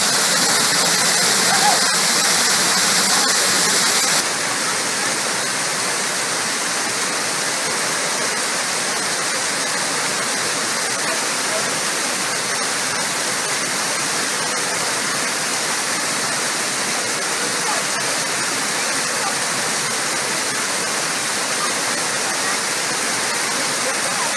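Icy snowmelt water rushes down a rocky gorge stream in North Wales, a loud, constant roar of whitewater close by that carries steadily throughout, with a brief louder gush at the start.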